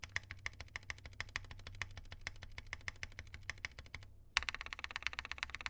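Fast typing on a rose gold KBD8x keyboard with lubed, filmed Yok switches and KAT Oasis keycaps gives crisp, even clacks in a rapid rhythm, briefly pausing before resuming slightly louder.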